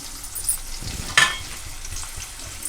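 Onions and green chilies frying in hot oil for a thota kura tomato curry: a faint, steady sizzle with a sharp clatter around the middle, like stirring or something dropping into the pan.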